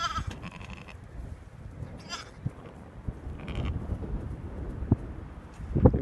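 A ewe that carried triplets, kept inside a lambing shed, bleats in short, soft calls among the faint rustle and shuffle of the pen, with brief knocks near the end.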